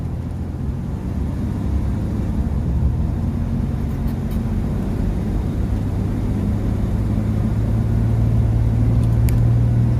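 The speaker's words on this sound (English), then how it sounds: "semi truck was coming up pretty hard." A semi truck passes on the highway as a continuous deep road rumble that swells slightly toward the end, loud and unbroken with no talking.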